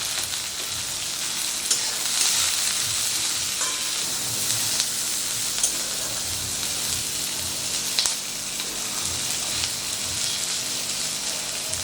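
Paneer shashlik vegetables frying with crushed black pepper in a hot pan, a continuous dense sizzle that crackles like rain, with a few faint stirring scrapes and no talking.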